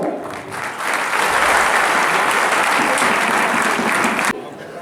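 A crowd at a stage ceremony for named people breaks into loud, sustained clapping that swells after a moment, then cuts off abruptly near the end.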